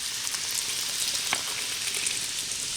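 Beer pours over bratwursts in an Instant Pot, giving a steady bright fizzing and sizzling hiss throughout, close and continuous with no talking.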